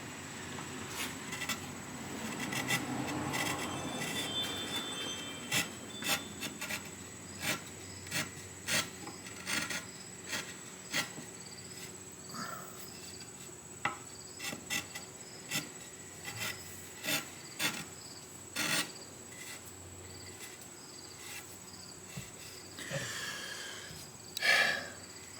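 Wood being beveled near a guitar neck produces a series of short rasping strokes, scraping rhythmically and fairly quietly at close range, over a faint steady hum.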